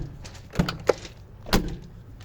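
Doors on a Trekol all-terrain vehicle closing, two short solid thuds heard close up with light rattles between them in a quiet setting.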